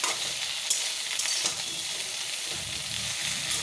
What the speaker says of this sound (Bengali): এবার কড়াইতে একটু তেল দিয়ে ঢেঁড়সগুলোকে একটু ভেজে নেব